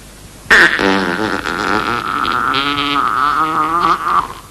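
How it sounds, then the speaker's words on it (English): A loud, close fart erupts suddenly and stretches into one long, drawn-out, wavering blast lasting several seconds before tapering off, from a performer in the style of the famous flatulist Joseph Pujol, Le Pétomane. "He farted."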